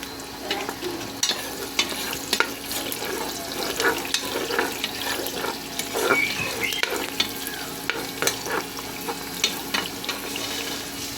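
Garlic fries in rendered lechon fat, with a steady crackling sizzle and frequent scraping knocks of the spoon stirring it, close and without speech.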